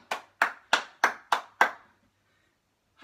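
Six crisp, evenly spaced claps from a single person after a home workout, close and distinct, then silence before a faint extra sound at the end.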